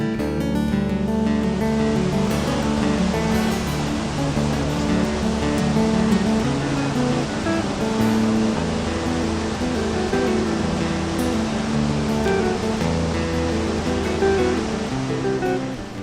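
The Lower Falls of the Yellowstone River, a 308-foot waterfall, roars loud and steady throughout in a dense, continuous rush with no breaks.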